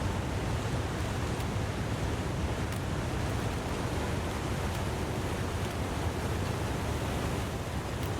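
A waterfall in a video game roars steadily and evenly the whole way through, a dense, constant wash of rushing water with no speech over it.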